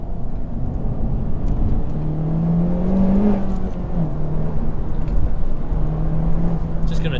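Honda Civic Type R FK8 Limited Edition driving on the road, with steady engine drone and tyre rumble from inside the cabin, engine tone rising and settling through gear changes, loud and continuous.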